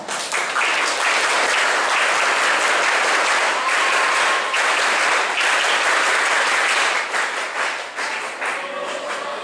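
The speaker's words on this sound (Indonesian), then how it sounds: "tepuk pramuka 2 kali" A crowd at a National Scout Day ceremony performs the rhythmic scout clap (tepuk pramuka) twice, producing loud, dense, patterned clapping from many people that carries on steadily without talk.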